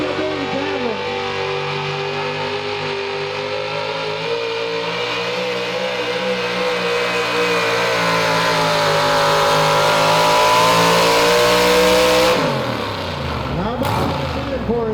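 An old Ford pulling truck roars at a truck and tractor pull, its engine revving loud and sustained with rising pitch before easing off near the end, close and continuous.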